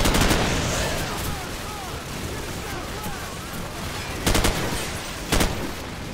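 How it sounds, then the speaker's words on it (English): Gunfire rattles in Call of Duty 4 Modern Warfare amid a busy game soundscape, with a couple of sharper bursts near the end over continuous background noise. "Vasquez, you better be behind me because I don't want to take any fire and die"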